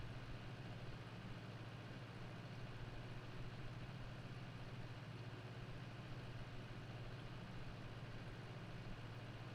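A tractor idles in Farming Simulator 22 with a constant low, droning engine hum, steady and fairly quiet throughout, no speech over it.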